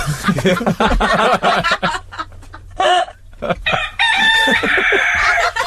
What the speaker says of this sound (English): He doth crow.